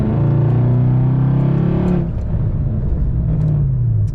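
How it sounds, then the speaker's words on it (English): A 1999 Jaguar XJ8 V8 downshifting on a road drive, its steady engine drone rising in pitch and then dropping to a lower, rougher hum as the gear changes, heard from inside the cabin. "Let's just do a quick downshift here."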